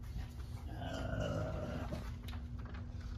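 A dog growls in a low, steady rumble close by, continuing throughout with a slight swell in the middle and no voices.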